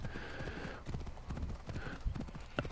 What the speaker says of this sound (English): Yay, riding on the horse.